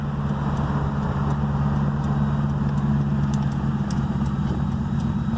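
An LS-swapped Chevrolet S10 engine idles steadily and a little high, giving a close, even rumble with a faint ticking on top, with no voices over it.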